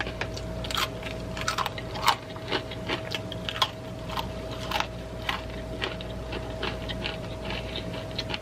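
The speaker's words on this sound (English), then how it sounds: "A nice salty, dry pretzel." Someone chewing a salty, dry pretzel up close, with a run of small irregular crunches and bites over a steady low hum and background drone, and no talking.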